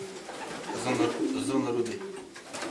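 Racing pigeons coo low and throaty in a loft, the soft rolling calls running under a voice.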